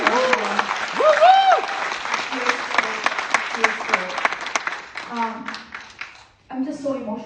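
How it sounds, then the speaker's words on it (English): An audience applauds at a film release event, with steady crowd clapping running through most of the clip while a voice speaks over it, then a short pause before talk resumes. "I want you all to please give her a round of applause"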